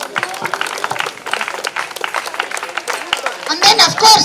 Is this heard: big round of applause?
yes